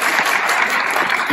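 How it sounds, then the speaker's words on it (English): Graduation audience applauding the new graduates, a dense, steady wash of many hands clapping at full loudness throughout, with no talk over it. "So please give yourself the biggest round of applause."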